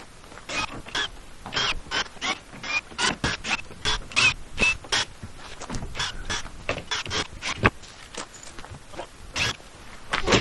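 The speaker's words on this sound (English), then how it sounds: "so let's go ahead and get it unboxed" Radiant heat system control components being unboxed, with a steady run of crisp rustles, crinkles and sharp handling clicks from cardboard and plastic packaging, close by and with no talking.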